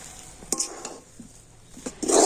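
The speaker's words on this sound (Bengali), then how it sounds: "এখন আমি এইভাবে নাড়াচাড়া করে একটা ডো তৈরি করে নেব" Flour dough for prawn pitha being stirred in a pan, with soft scraping and a few sharp clicks of a utensil against metal, ending in a louder scrape.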